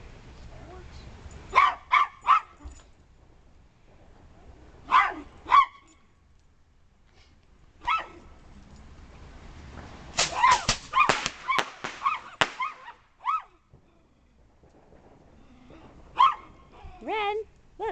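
Dog barking outdoors during a July 4th fireworks display, sharp barks and yips in short clusters separated by pauses, near and moderately loud with faint background sound between bursts.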